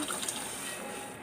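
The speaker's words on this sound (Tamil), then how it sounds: "அடுத்து புளியும் தக்காளியும் கரைச்சி வச்சுருக்கோம் பார்த்தீங்களா, அதை ஊற்றிடலாம்." Tamarind and tomato water is poured into a pan while making pepper rasam. It makes a brief, steady liquid splash and gush, close and moderately loud, with no talking.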